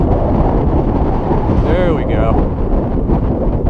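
Strong wind buffets the microphone with a continuous loud roar while a small sailboat fights through the gusts under power, and someone speaks briefly over the rumble.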